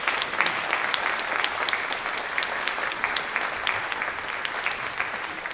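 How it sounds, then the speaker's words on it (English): Enthusiastic applause from an audience at a high school senior awards ceremony, a loud, even wash of many hands clapping continuously, with no speech over it. "Let's give all these kids a big round of applause."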